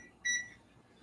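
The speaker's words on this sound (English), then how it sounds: "I'm going to set a timer" Kitchen timer being set during cooking, giving a single short electronic beep, clear and close, in an otherwise quiet room.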